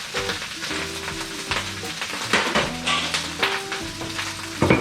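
Green onions frying in a pan for a Taiwanese dish, a close steady sizzle with stirring scrapes and light clatter, while a person talks over it.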